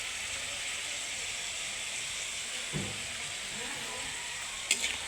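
Fern shoots with eggs are stirred in a frying pan over a steady sizzle, with a couple of soft spatula scrapes and a sharp clink near the end, all close and moderately loud.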